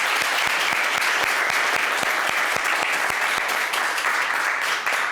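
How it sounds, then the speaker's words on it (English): A crowd at a real estate grand opening applauds, dense continuous clapping close and loud throughout, easing slightly at the very end. "another big round of applause"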